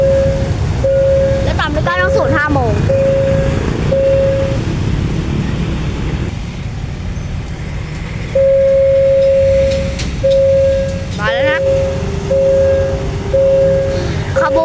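Thai passenger train number 726 pulling out of a station near U Thong, heard as a steady low rumble with repeated tonal horn-like blasts and a few sweeping squeals, fairly close and loud throughout.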